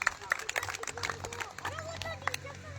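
Applause from an outdoor crowd at the opening of a cricket ground, scattered claps fairly faint over a background hum, with voices chattering underneath.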